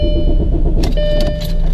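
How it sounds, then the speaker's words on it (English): A car engine cranks briefly and then catches and starts, with a short burst of mechanical noise after a steady low hum, close by and loud. "This car never turns on the first crank."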